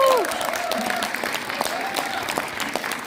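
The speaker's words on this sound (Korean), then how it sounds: "네, 이제 박수 쳐주세요." An audience at a book concert for Justice Minister Choo Mi-ae breaks into a short burst of lively clapping. The applause is dense at first and then thins out over a few seconds.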